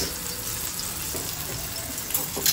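Rava-coated pomfret and surmai fish shallow frying in a pan, a continuous hissing sizzle at moderate volume with a couple of small clinks near the end.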